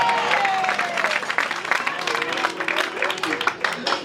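A church congregation claps and cheers loudly and steadily, dense applause filling the room while a voice speaks over the crowd.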